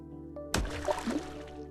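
Water splashes suddenly in an audio fairy tale about a whale calf's journey home, one sharp splash followed by softer gurgling, sloshing drips that fade over about a second.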